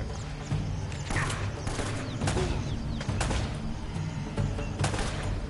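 Enemy shotgun fire in the video game Uncharted: Drake's Fortune: sharp, bright blasts crack out at irregular intervals, about half a dozen across a few seconds, over a low background of game ambience.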